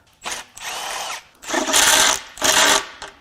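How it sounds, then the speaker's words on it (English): Power tool, likely an impact driver or drill, spins out the 10mm bolts holding the lower oil pan on a 1.6L Hyundai/Kia Gamma II GDI engine during teardown; three loud, close whirring bursts separated by brief pauses. "Now we're going to pull the ring of 10mm bolts that hold this lower oil pan on."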